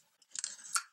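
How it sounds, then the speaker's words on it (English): A small strip of tape peels off with a short, crackly, close rip lasting under a second, quiet overall. "So I'm going to take a little bit of tape and pick them up."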